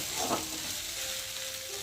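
A steady frying sizzle fills the pan of fried kundru, with a brief splashy burst near the start as water hits the hot surface, then a continuous hiss.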